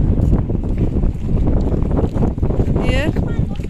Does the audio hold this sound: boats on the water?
yes